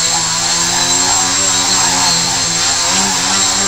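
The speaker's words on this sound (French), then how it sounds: "Vous voyez le son des moteurs, lorsque je change de direction, les moteurs changent de vitesse." Small quadcopter drone motors whir with a loud, steady high-pitched buzz, rising and falling slightly in pitch as they change speed with direction changes, close by.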